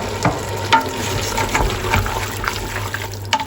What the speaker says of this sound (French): on va y ajouter nos haricots avec le jus de cuisson